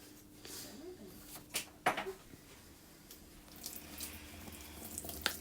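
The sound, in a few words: hot tap water running while washing hands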